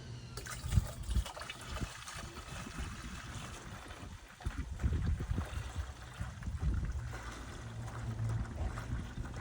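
Concrete sealer is poured into a sprayer, making a steady liquid trickle and glugging stream that carries on at moderate level for several seconds, close by.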